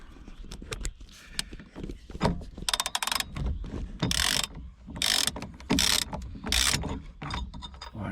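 Ratchet with a 22 mm socket loosening the steering wheel nut on a Lotus Exige S2 without an airbag: repeated close clicking pawl strokes in uneven bursts, alone with no talk.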